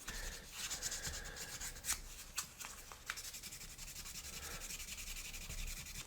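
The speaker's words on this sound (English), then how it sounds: "I think our sanding preparations are complete" Close, steady rubbing strokes of sandpaper smoothing the body of a Matchbox AMX die-cast model car, with a few sharper scrapes along an edge, soft and continuous.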